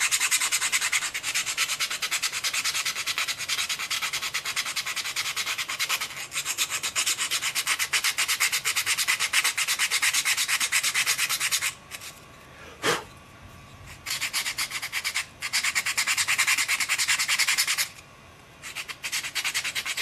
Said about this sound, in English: So you just get that in there and start sanding.